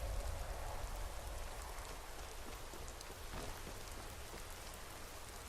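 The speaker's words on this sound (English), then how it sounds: "Fog and light rain." Steady light rain from the Obsidian Weather mod in a Tamriel game, a soft continuous hiss of drops on surfaces with faint patter, no voices over it.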